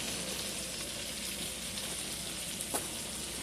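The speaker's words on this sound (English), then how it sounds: "And we'll just let that fry" A T-bone steak fries in a pan with a steady, even sizzle throughout, faint crackles rising briefly near the end and no voices.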